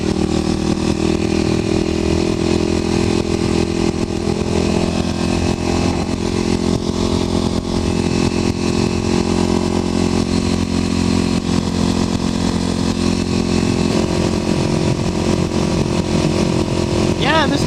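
A Kawasaki KLX250sf motorcycle cruises steadily through open country past a one-lane bridge, its engine droning continuously under constant wind noise, with someone talking over the ride.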